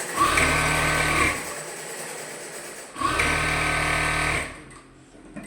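Sewing machine stitching a nightie: two close, loud whirring runs of the motor and needle, each lasting over a second, separated by a quieter pause.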